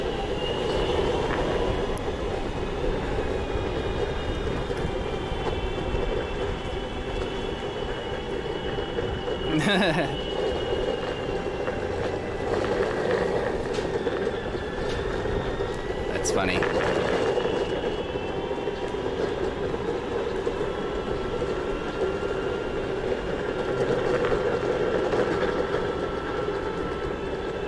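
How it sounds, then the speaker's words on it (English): Osaka Metro Midosuji line trains roll past with a steady loud rumble, wheel squeal and rail clatter, two sharper clanks standing out along the way, while a person speaks briefly nearby. "Trains, the Midosuji line."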